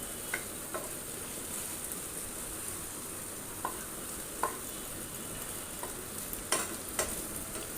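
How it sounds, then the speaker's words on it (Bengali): Vegetables for a Bengali dish fry in a pan and are turned over, a continuous moderate sizzle with a few spatula taps and scrapes spaced out over the hiss, no voices. "আবার একটু ভেজে দিন এপিট ওপিট নেড়ে দিচ্ছি"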